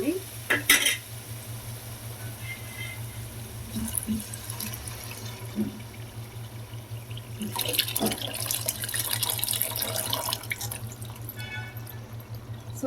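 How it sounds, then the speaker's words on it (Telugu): Tamarind juice poured into a simmering pulusu-style fish curry made with palamosulu fish and stirred in, giving running liquid, wet stirring and faint sizzling, with a steady low hum running underneath. "సో ఇప్పుడు దీంట్లో చింతపండు రసం అయితే యాడ్ చేస్తున్నానండి"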